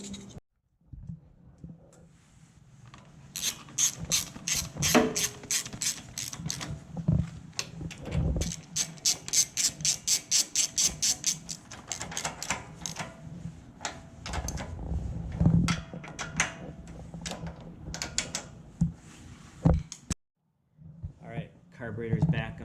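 A ratchet turns while a snow blower carburetor is reassembled, giving bursts of rapid, evenly spaced clicks close by, mixed with scattered handling knocks and scrapes.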